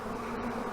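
A swarm of honey bees gathered in an old hive gives off a dense, continuous buzzing drone, close and steady through a brief moment with no voices.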